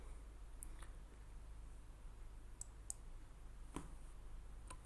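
Computer mouse clicking: a few faint, sharp clicks spaced irregularly over a quiet room hum.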